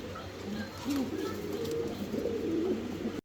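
A Lotan fancy pigeon coos close by in a soft, rolling series of throaty warbling calls, repeated several times over a steady low room hum.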